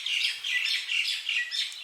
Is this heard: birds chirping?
yes